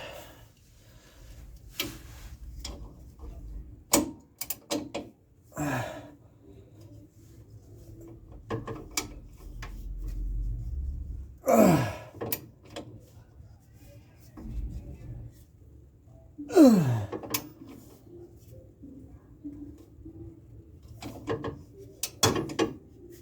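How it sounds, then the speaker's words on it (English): A ratchet wrench tightens rear adjustable sway bar links on a BMW E36, giving short scattered bursts of clicking and metallic clatter separated by quiet pauses. "swap to the ratchet. Yep, last couple clicks on it and then call it good"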